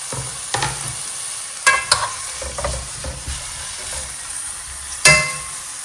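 Strips of pepper sizzle with onion and garlic in a frying pan. A spoon stirs them in scattered scrapes and light clinks, with a sharper knock near the end, over a low, close sizzle. No voices.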